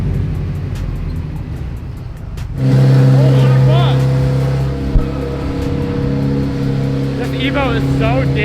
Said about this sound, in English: Evo is so damn loud.